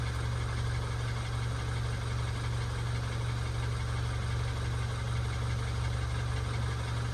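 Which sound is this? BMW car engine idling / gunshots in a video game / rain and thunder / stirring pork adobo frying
BMW car engine idling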